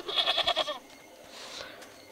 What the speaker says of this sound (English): get out of my way, goat.